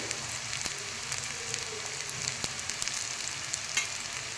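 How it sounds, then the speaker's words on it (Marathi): Onion frying in a pan gives a continuous close sizzle and crackle, with scattered small pops and faint stirring throughout. "तर आता कांदा आपला तळत आलेला आहे कांद्याचा रंग बदललेला आहे"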